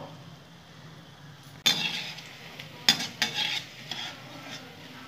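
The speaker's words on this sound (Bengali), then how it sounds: "আবার এরকম লাল লাল করে ভেজে নেব।" Masoor dal fritters fry in a pan with a soft, steady sizzle, broken by a few sharper bursts of spattering and clatter as they are moved or turned.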